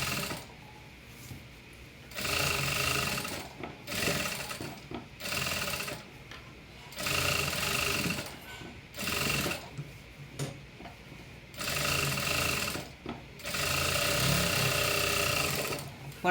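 A sewing machine runs a second line of stitching on a puff sleeve in repeated bursts of rapid mechanical whirring and ticking, each burst a second or two long with short pauses between, close and fairly loud.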